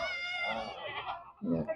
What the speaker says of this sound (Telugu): ఇదండి మేకలు